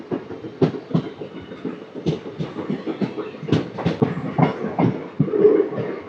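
Express train 17219 from Machilipatnam to Visakhapatnam runs at speed, its wheels beating a steady, close clickety-clack rhythm of sharp rail-joint knocks over a low rumble, with no voices.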